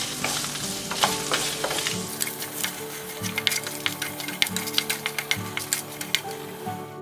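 Chopped onion frying in a pan for paneer butter masala gives a continuous close sizzle, with quick spoon clicks and scrapes growing busier as it is stirred; a low steady hum sits beneath.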